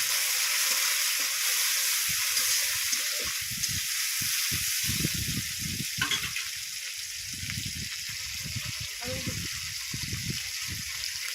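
Shrimp coated in salt and turmeric frying in a wok, a steady sizzle with bursts of stirring and scraping throughout, with a voice speaking intermittently over the cooking.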